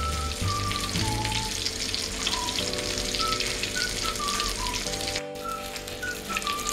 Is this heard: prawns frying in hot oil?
yes